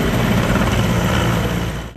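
A firefighting helicopter over a forest fire that spread from farmland in high wind, heard as a steady, loud rotor and engine roar filling the whole clip without any speech.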